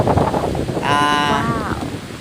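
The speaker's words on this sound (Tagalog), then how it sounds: "Lumalakas na ang hangin dito." Strong stormy wind roars through a banana plantation, buffeting the microphone in a continuous rough rush, with a brief tonal wavering cry rising briefly over it midway.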